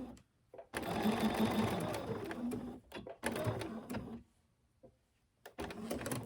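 A sewing machine top stitches a pre-cut fabric mask in three close bursts of steady needle whirring separated by short pauses, with no one talking.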